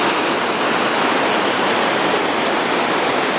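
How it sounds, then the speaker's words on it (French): A waterfall on the Ink Pots hike in the Canadian Rockies, a steady loud broadband rush of falling water that stays constant throughout, close by and with no voices. "la dernière cascade"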